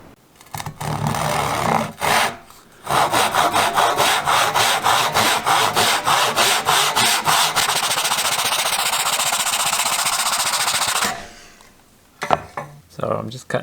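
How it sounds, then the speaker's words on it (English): Handsaw cutting wooden side slats to length for a Morris chair, a steady run of fast rhythmic rasping strokes, close and loud, lasting about eight seconds before stopping, with a few knocks after. "I'm just cutting these side slats to match the bottom angle"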